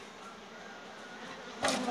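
Honey bees hum at an opened beehive where frames are being handled, a close, continuous buzzing drone with one brief louder burst near the end.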